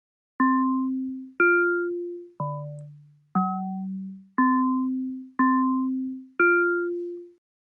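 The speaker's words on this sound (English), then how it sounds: "let's choose that Pretty Bell again and see what that sounds like" A simple melody on the Sonic Pi Pretty Bell synth plays seven separate bell-like notes at even intervals. Each note has a clean, ringing strike that fades away before the next one sounds.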